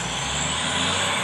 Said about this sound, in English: loud oil truck